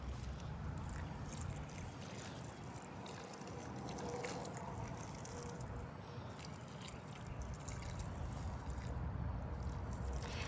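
Fertilized water is poured from a watering can over the containers of a large gnome garden, a steady faint splashing and trickling that continues for the whole stretch with no talk.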